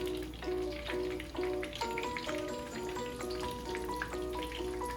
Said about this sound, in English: I got a nice saute pan going with a little bit of oil